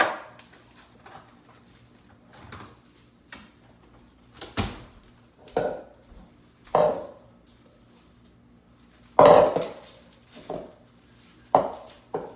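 A spoon works through tamale dough in a bowl, giving a series of irregular thuds and scrapes, some sharp and loud, spaced a second or so apart and heard up close.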